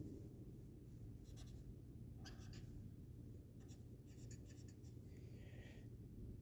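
A pen or pencil scratches numbers onto paper in short, faint, separate strokes, close by over a steady low background hum.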